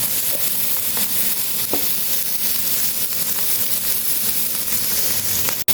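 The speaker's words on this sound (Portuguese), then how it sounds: "Enquanto o nosso bife frita" Loud, continuous sizzling of beef steak frying in a hot pan, crackling steadily with no talking.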